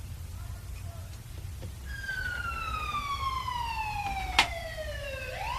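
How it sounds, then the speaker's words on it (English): An ambulance siren wails up close, its pitch sweeping over steady road noise, with a single sharp click partway through. "Will we be able to hear Brian over the siren, over the engine of a screaming ambulance?"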